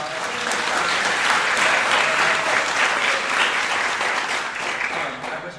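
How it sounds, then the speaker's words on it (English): Sustained, loud audience applause fills a nursing pinning ceremony, a dense steady wash of many hands clapping with no break across the whole stretch. "let's give them a big round of applause"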